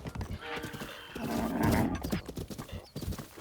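A horse gallops in The Legend of Zelda: Breath of the Wild, close rhythmic hoofbeats with a whinny, game music and effects layered underneath.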